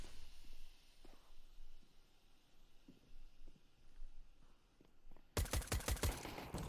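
Rapid burst of CS:GO gunfire from a USP pistol in a competitive match, a loud cluster of sharp shots near the end following quieter scattered footsteps and distant game noise.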